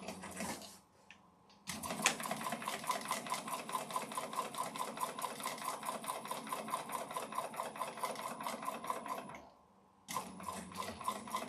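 A sewing machine chain stitching a woven piece runs in a fast, steady mechanical chatter for several seconds, with brief quieter gaps at the start and end, close and loud.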